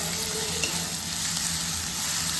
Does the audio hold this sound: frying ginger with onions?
yes